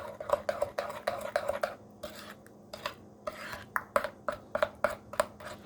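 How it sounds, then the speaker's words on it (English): A utensil scrapes and clinks rhythmically against a bowl while a salad is stirred with a sweet-sour dressing of vinegar, lemon juice and sugar, in quick close bursts with a short pause midway. "so give that a really good stir"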